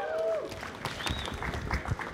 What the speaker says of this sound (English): Round of applause for Poland again,